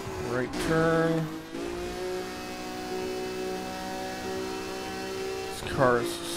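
Car engine in the Burnout Paradise racing game, a steady droning rev that rises in pitch at the start and again near the end, with a brief tire-squeal-like sweep, mid-level and continuous under a faint voice.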